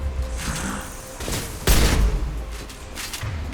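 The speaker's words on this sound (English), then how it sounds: "Taking heavy fire!" Heavy gunfire in the sci-fi shooter Mass Effect 2, with scattered shots and rattling bursts building to a loud, booming impact midway, followed by continued crackling fire and rumble.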